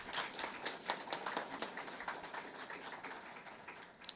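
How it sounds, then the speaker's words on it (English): A small crowd at a technical college signing day claps in a quiet, sparse patter of individual claps, heard from some distance. "Give him a round of applause"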